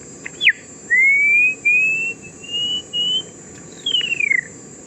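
A person whistles in imitation of the call of a bird that hunts blue morpho butterflies: a quick falling note, then several long, clear, gently rising and falling tones, ending with a descending slur, loud and close.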